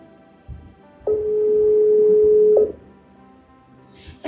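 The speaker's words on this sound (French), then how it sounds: "Mais pourquoi il ne décroche pas mon appel?" A single long, steady electronic phone tone rings out for about a second and a half on an unanswered call, preceded and followed by quiet room noise with a faint rustle.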